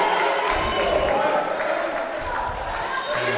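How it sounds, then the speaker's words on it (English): Spectators in a high school volleyball gym applauding and cheering, a steady dense clatter of clapping and crowd noise throughout, with a commentator's voice over it. "Hype with applause and then some"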